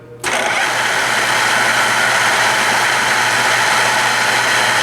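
A Deckel FP1 universal toolmaker's milling machine spinning up its spindle at 800, a sudden start followed by a loud, steady, close mechanical drone with no talking.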